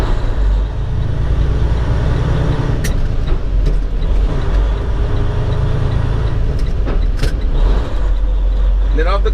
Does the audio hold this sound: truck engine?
yes